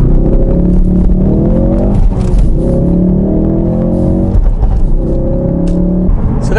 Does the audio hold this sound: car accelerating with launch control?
yes